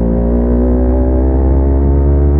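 Suzuki Inazuma motorcycle engine running steadily while being ridden, a loud, continuous harmonic drone with low rumble held close throughout, no voices.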